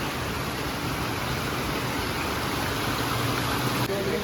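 Steady rushing water pours from a fish pond outlet into a river stream, a continuous broadband roar close by with no pauses.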